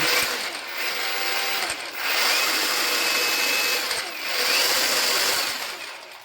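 A cordless brushless 125 mm angle grinder with speed control whines at high speed, running steadily with two brief dips in pitch as it spins down and back up, close by.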